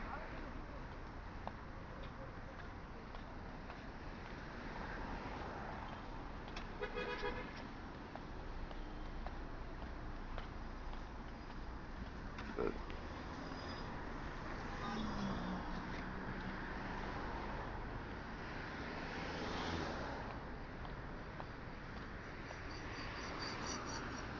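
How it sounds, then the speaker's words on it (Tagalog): Busy road traffic in Jeddah, a steady, distant wash of passing cars with a constant hiss and faint scattered noises throughout, continuous and even in level. "Ang daming sasakyan, nakakaloka."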